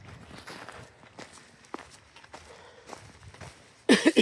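Footsteps of a hiker approaching on the Appalachian Trail near a shelter, soft and irregular at first, growing closer, ending in a few louder near steps.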